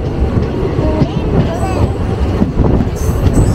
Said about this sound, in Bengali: এরকম ট্রেনে করে যেতে আর ট্রেনের আওয়াজটা শুনতে দারুণ লাগে।